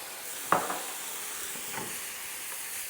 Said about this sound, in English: We're gonna give them a splash, kind of gonna deglaze the pan, and also give that umami flavor to the mushrooms.